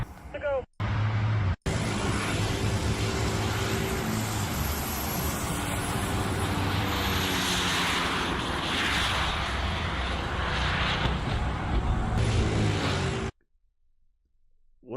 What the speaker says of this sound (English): We built a jet-powered car